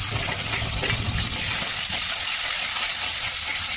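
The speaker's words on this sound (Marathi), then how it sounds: "मी आता टमाटर हा फ्राय करून घेणार आहे तेलामध्ये" Tomatoes fry in hot oil for khandeshi sev bhaji, giving a continuous, loud, close sizzling hiss with no talking.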